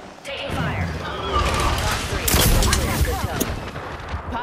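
Rapid gunfire bursts in an Apex Legends match, loud and continuous with booming shots and crackling impacts, mixed under a voice talking.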